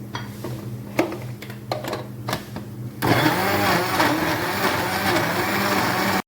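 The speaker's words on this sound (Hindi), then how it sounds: "अब ये जो लहसुन, अदरक और टमाटर था, इसको हम ग्राइंड कर लेंगे ताकि इसकी एक अच्छी सी स्मूथ सी पेस्ट बन जाए।" A kitchen blender grinds garlic, ginger and tomato into a smooth paste for Lahori murg chaney. Quiet kitchen clatter comes first, then the motor starts abruptly and runs loud and steady, with a churning, whirring roar through to the end.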